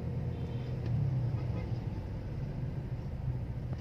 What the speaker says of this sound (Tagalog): Grabe traffic dito sa bayan. Bayan Novaliches.